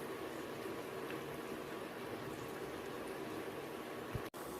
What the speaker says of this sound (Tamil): வடை வந்து நல்லா பொரிஞ்சு வருது ஃப்ரெண்ட்ஸ்